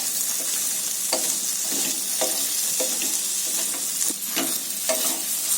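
Okra (ladies finger) sizzles steadily in a pan while a spatula stirs and scrapes through it in repeated strokes, loud and close, with no voices.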